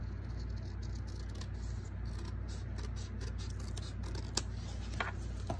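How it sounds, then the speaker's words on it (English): Scissors make quick, skinny cuts into folded paper up to the fold while a flat paper ladder is being made, a steady run of faint close snips over a low background hum. "So I'm going to make skinny cuts again up to my fold."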